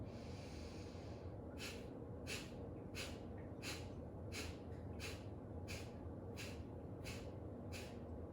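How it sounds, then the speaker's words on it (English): Steady, rhythmic breathing through the nose during beginner pranayama practice: about ten sharp, evenly spaced nasal breaths follow one another over a constant low background hiss, close and fairly quiet, with no voice. "we'll start together the deep breath in, a deep breath out"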